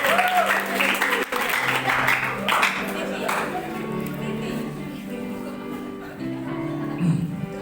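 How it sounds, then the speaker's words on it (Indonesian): Worshippers at an evening church service clap for a speaker, a burst of applause that thins out as music and room sounds continue underneath. "Tepuk tangan buat Pak Enos."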